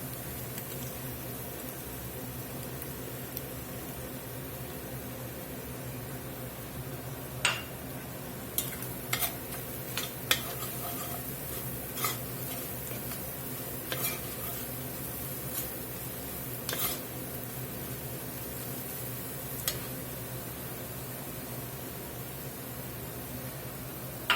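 Onions fry in a pot with a few tablespoons of flour stirred in, for a Southern-style beef and mushroom onion soup. A steady, quiet sizzle runs throughout, broken by scattered clicks and scrapes of a spoon against the pot, with no talk.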